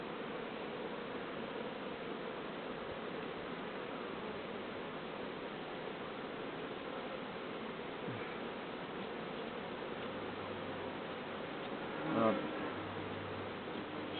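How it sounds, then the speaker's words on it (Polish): A dense, steady drone of many bees buzzing together, with one louder bee passing close by near the end. "Pszczoły wyjeżdżają"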